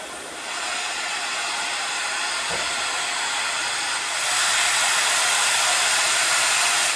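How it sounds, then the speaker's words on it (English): Cooling fans in an Asus Zenbook S14 laptop running at the highest performance mode give a loud, steady airy whoosh. The hiss grows a little stronger partway through and continues with no talk. "The fans do get pretty loud, especially when you're in that highest performance mode."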